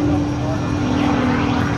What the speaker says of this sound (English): is flying a Lycoming AEIO 580 engine, giving her 350 horsepower